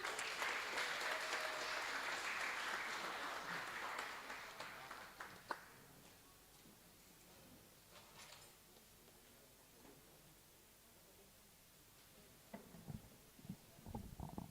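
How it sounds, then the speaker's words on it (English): Graduates at a commencement ceremony receive audience applause, a loud sustained wash of many hands for about five seconds that thins out into a quiet room with scattered taps and a few late claps near the end. "A loud applause to you once again"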